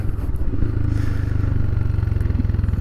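A Royal Enfield 462 Himalayan motorcycle with a roughly 40 horsepower engine accelerating hard for a wheelie, a loud, close, pulsing engine thump that builds steadily through the whole stretch.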